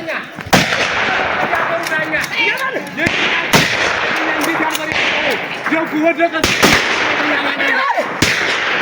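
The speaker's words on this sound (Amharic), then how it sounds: "ይተኮስ እንጂ መቶ ጥይት ይፈከር እንጂ ይተኮስ እንጂ" At a funeral for a Fano hero, a gunfire salute sounds as several loud, sharp shots spaced irregularly apart, heard over a crowd and raised voices chanting.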